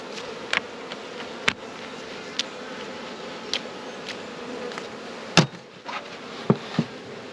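Honey bees at an opened beehive in an Australian apiary, a soft continuous buzzing hum near at hand, punctuated by scattered sharp clicks and knocks from hive frames.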